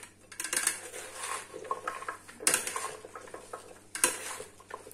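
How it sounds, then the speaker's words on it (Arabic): Salad ingredients are tossed and mixed in a bowl, with utensils clinking and scraping against the dish in three distinct bursts of clatter, close by and with no talk. "غادي نخلط"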